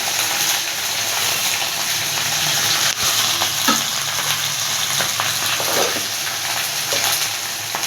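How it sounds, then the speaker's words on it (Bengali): Okra and potatoes with turmeric and salt being stirred in a hot pan, giving a steady oily sizzle with soft scraping and stirring touches throughout, close by and continuous. "হলুদ লবণ দিয়ে একটু নেড়ে চেড়ে ঢাকা দিয়ে দেবো"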